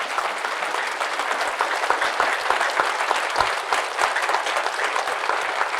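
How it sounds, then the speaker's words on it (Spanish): Strong applause from a church congregation during a Catholic priest's service, a dense, even roar of many clapping hands with occasional sharper claps standing out, continuous from start to finish. "Fuertes aplausos al Señor Jesús."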